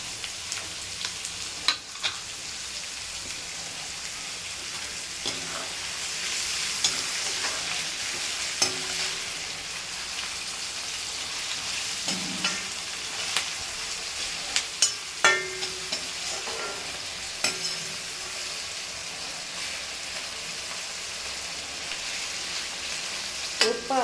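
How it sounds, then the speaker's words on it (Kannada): Vegetables for bread upma sizzle in hot oil in a pan while a spoon stirs them, with scraping clicks and taps over a steady frying hiss, close and fairly quiet, no talk. "3-4 ನಿಮಿಷ ಚೆನ್ನಾಗಿ ಹುರಿಬೇಕು. ಚೆನ್ನಾಗಿ ಕಲಿಸ್ತಾ ಇರಬೇಕು."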